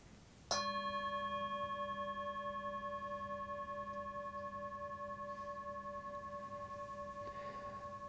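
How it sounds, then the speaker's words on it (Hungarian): A single strike of a small bell rings out clearly, then its pure tone hangs and slowly fades over several seconds in a quiet room. "Mondhatod azt magyarul, hogy a harang hangja"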